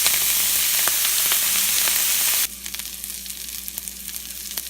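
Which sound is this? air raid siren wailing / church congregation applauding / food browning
food browning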